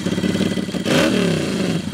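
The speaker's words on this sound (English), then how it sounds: "We will see if the Pebble detects a motorbike." A motorbike revs and roars past on a city street near a curbside parking sensor, its engine note rising and falling loudly over two seconds.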